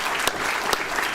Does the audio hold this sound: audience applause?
yes